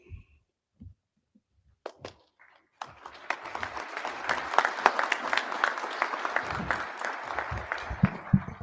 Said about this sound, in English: I always appreciate it when people clap before I speak